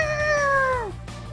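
A cartoonish cat meows in a video game, a single drawn-out call with a falling pitch at the end, clear and close over a low background hum.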